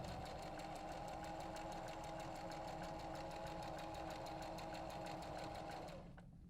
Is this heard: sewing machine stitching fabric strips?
yes